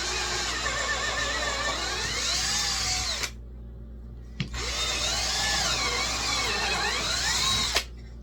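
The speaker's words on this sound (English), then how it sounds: "Keep the drill as straight as it can." A power drill whirs steadily in two long runs through scrap 2x4 lumber, pitch sagging under load, with a short pause and brief clicks between bursts; close and loud.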